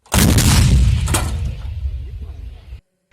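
A single loud artillery shot fired during a territorial defence training exercise, a heavy boom that rolls and fades over a couple of seconds, with faint voices in the tail.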